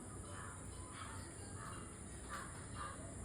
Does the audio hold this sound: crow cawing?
yes